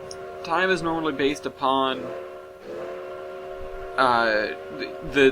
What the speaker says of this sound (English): Oh, I was blowing the whistle.